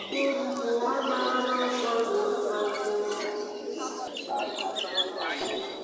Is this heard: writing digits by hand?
no